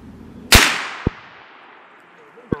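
A 350 Legend rifle firing a 160 grain Winchester Power Max bonded round gives one loud, close, sharp crack with a fading echo tail, followed by two short sharp clicks.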